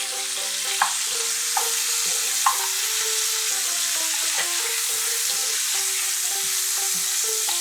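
Duck eggs seasoned with salt, turmeric and sugar fry in a pan, a bright steady sizzle over a low sustained tone, with a few sharp scrape and tap sounds from stirring.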